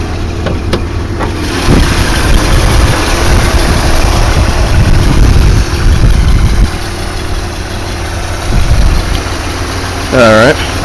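A Chrysler 318 V8 in a hot rod idles with a low, rumbling, slightly uneven throb, close and loud, with brief bursts of handling noise.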